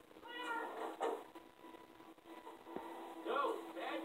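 Cat meowing in the video game Minecraft Story Mode, a few short, fairly loud meows spread through the clip over steady game background music, with soft talking in places.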